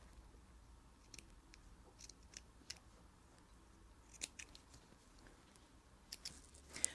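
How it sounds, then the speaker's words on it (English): Small snips cut off excess threads from homemade bamboo and cotton cleansing pads, making a scattered series of faint, sharp clicks and snaps at irregular intervals, close by and with no talk. "get my snips, cut off any excess threads"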